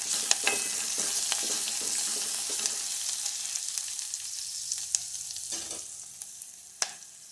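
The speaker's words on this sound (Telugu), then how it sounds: "తర్వాత అల్లం వెల్లుల్లి పేస్ట్ వేసి కొంచెం కలుపుకోవాలండి" Ginger garlic paste with turmeric frying in hot oil, a steady close sizzle with scattered sharp crackles and a few utensil scrapes from stirring, fading slightly toward the end.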